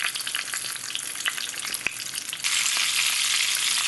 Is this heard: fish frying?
yes